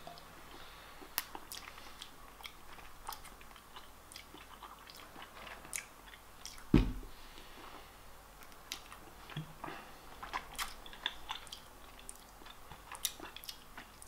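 Halo Top ice cream with cinnamon roll pieces being chewed close up, soft wet squishing bites with faint crunchy clicks and one louder bite midway, quiet and unaccompanied by speech.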